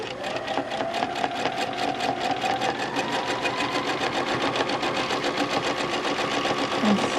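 A sewing machine stitching free-motion quilted feathers runs steadily and close up, its rapid needle chatter forming one unbroken mechanical whir for the whole stretch.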